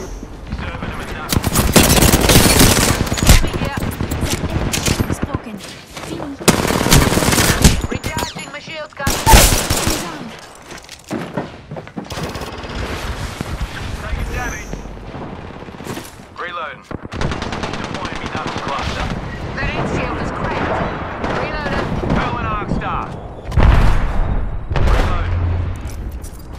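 Rapid automatic gunfire and bursts of shooting rip through a video game firefight, loud and nearly continuous with brief lulls, while game voices call out over the combat.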